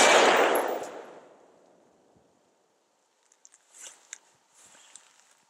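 An AR-15 rifle fires a loud, close shot during a shooting drill; the report fades over about two seconds, followed by faint footsteps and light clatter.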